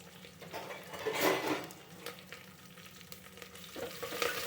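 Onions frying with curry leaves in a pan for tomato rasam, giving a quiet, steady sizzle with a few soft stirring scrapes and clicks, close and without talk.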